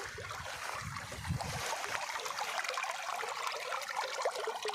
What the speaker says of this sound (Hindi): और यहाँ से पानी का बहाव जो है वो तेज़ हो गया।